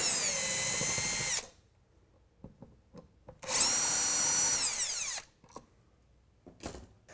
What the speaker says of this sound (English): remove the outlet's mounting screws